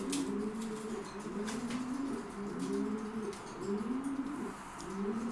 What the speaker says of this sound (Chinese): 这样就是公鸽子引导母鸽子在那产蛋了，都配好对了。